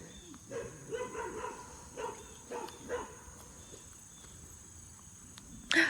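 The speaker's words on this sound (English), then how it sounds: "she is barking at something in the grass" A dog barks several times in an uneven series at moderate distance, with a steady chorus of crickets buzzing in the background.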